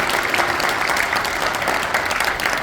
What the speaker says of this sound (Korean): 이분들에게 감사의 박수 한번 보내주시기 바랍니다.